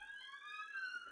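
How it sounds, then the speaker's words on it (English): Several emergency vehicle sirens wail outside a house, their steady rising and falling tones layered together at moderate distance and fairly faint, with no talk over them. "There are just a lot of sirens outside my house."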